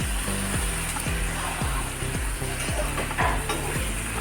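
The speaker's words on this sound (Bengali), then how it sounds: "এবার আমি একটু জল দিয়ে দেবো অল্প জল দিব" Water added to a sizzling jackfruit (echor) curry in a pan gives a steady, moderate sizzle, with regular scraping strokes repeating about twice a second throughout.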